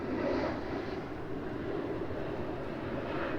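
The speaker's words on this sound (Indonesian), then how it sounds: "Nah ini gue ngelihat ada pesawat dari Emirates, Fly Emirates." An Emirates airplane flies overhead near a stadium in Los Angeles, producing a soft, steady engine drone that stays level and fairly distant throughout.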